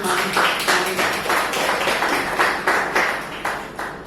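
An audience claps steadily at a Mahashivratri celebration. The applause is dense and continuous with a rhythmic pulse, loud and close, with no talking over it.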